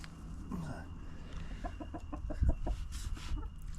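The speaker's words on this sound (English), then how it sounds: "hello chickies, how many chickens we've got coming to see what I'm doing?" Chickens in a farmyard cluck in short, soft rhythmic bursts near a man doing an oil change on a RazorBack HST, with a faint low engine hum underneath.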